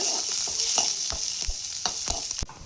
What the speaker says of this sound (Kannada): ಶುಂಠಿ, ನಂತರ 2 ಗಡ್ಡೆ ಬೆಳ್ಳುಳ್ಳಿ ಹಾಕ್ಕೊಂಡು ಸ್ವಲ್ಪ ಫ್ರೈ ಮಾಡ್ಕೊಳ್ಳೋಣ